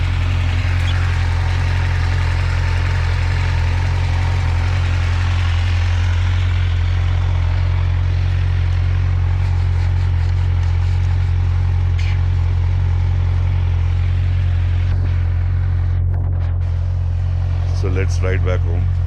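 A Kawasaki Ninja 1000 motorcycle engine idling after being started, a steady, deep, rumbling hum held close and loud throughout, with a voice talking over it.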